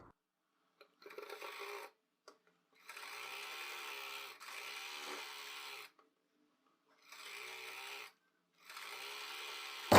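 Sewing machine stitching a salwar in several separate bursts of steady whirring, each lasting one to two seconds with silent pauses between, close and moderately loud with no talking.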